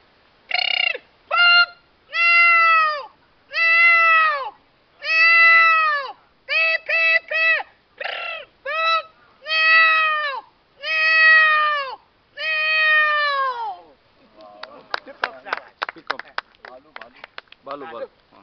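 A man imitates a peacock's call with his voice, repeating loud, drawn-out wailing cries in a series of separate bursts, close and clear, ending with quicker broken sounds.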